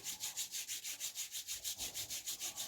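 Two hands are rubbed briskly together to warm them during a breathing and nerve exercise, a fast, even swishing with about fourteen back-and-forth strokes, close and soft, and no talking.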